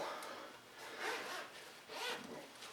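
A zipper on a beekeeping suit's veil is pulled in a few slow rasping strokes, close and fairly quiet, with no talking.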